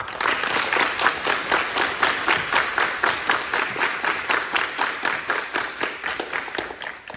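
A group claps in a steady, even rhythm for a cadet receiving his participation ribbon at a ceremony, the beat holding for several seconds with no voices.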